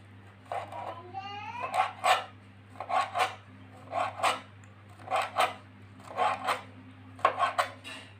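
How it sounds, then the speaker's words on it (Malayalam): A knife slices squid into rings, giving a series of short, crisp rasping cuts at a steady rhythm, close and moderately loud over a low constant hum. "അപ്പം നമുക്ക് ഇങ്ങനെ റൗണ്ടായിട്ട് നമുക്ക് ഇതൊന്ന് മുറിച്ചെടുക്കാം."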